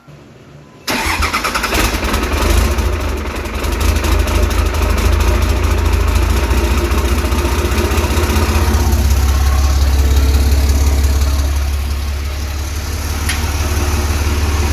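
12-valve diesel truck engine with a 5-inch open downpipe cranks briefly and fires up after sitting a long time, then settles into a loud, steady, rumbling idle heard up close by the downpipe, with no talk.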